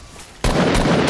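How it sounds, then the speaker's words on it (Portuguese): A single loud gunshot from a headshot in the video game Fortnite Battle Royale strikes abruptly after a quiet moment, followed by a brief ringing tail. "Um tiro na cabeça e morreu."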